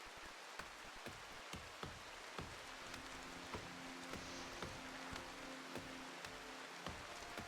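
Steady rain hisses in the Rimworld video game, a constant wash of patter with faint regular ticks and a low hum underneath.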